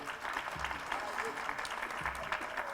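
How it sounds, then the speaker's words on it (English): Applause from a hotel banquet audience at an Afro-Asian connectivity event in Manila, fairly faint steady clapping lasting a few seconds. "A round of applause, please."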